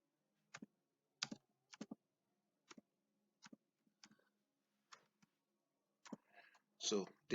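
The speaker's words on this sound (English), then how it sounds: "So I'll start typing" Typing on a computer keyboard in Microsoft Word, with sparse key clicks spaced through the stretch and a burst of quicker, louder clatter near the end; close and fairly quiet.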